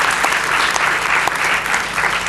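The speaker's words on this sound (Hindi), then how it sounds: "उनके लिए जोरदार तालियां।" Loud, dense audience applause in a hall honouring composer Ravindra Jain as chief guest, many hands clapping steadily and close throughout.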